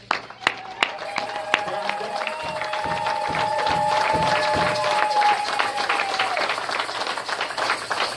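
Church congregation applauding mothers at Maranatha Home Church, a swell of clapping that builds and sustains across the room, with a few louder individual claps early and a tonal voice or music line running beneath.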